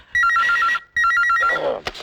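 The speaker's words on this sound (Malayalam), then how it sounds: "phone phone" A telephone rings in two electronic bursts of rapid warbling tones, each under a second long with a short gap between, loud and close, followed by a brief clatter as the handset is picked up.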